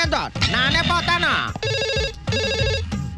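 A telephone rings in a Telugu feature film with two bursts of loud electronic trilling that overlap the end of a man's loud speech. The rings sound close and insistent, with a short pause between the bursts.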